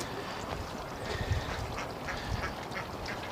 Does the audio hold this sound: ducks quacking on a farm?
yes